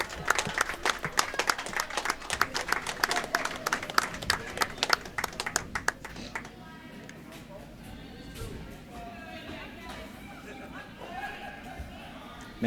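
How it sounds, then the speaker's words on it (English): Clapping from spectators at the finals of a mixed curling bonspiel, a dense burst of applause for the bronze medalists that fades to crowd chatter and room murmur. "Some applause."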